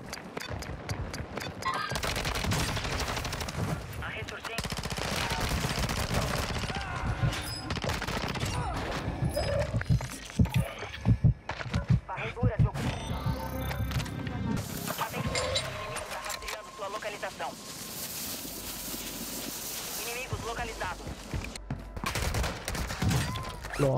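Automatic gunfire rattles in loud bursts during a Warzone 2 match, with heavy firing early and later sporadic shots, while a player talks over it.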